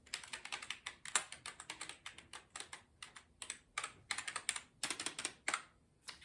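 Rapid, uneven clatter of typing on a backlit computer keyboard with color-changing lights, close and crisp, keystrokes coming in quick bursts with short pauses and no voices.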